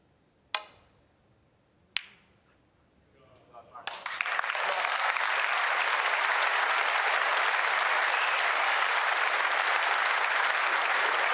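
Snooker audience applause in a match between Robertson and Williams: two sharp isolated claps, then the crowd swells into sustained, dense clapping that continues evenly to the end.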